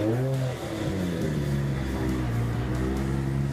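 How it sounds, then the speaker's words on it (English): Drift cars at the Suzuka Twin Circuit rolling back to the pits during a Formula Drift Japan round, their engines holding a steady, loud mid-pitched drone with shifting harmonic tones and a brief dip early on. "you see the cars going back to the pits."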